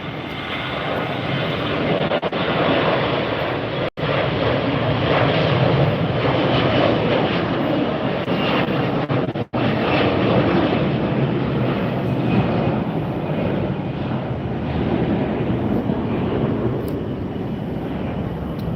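Airliner accelerating down runway 1R at Tampa airport for takeoff, a loud, steady roar of jet engines that holds at full power throughout, with no talk over it.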